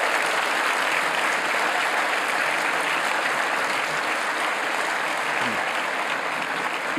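Sustained audience applause with scattered cheers fills a hall for the whole stretch, steady and dense, as a guest is welcomed onto the stage.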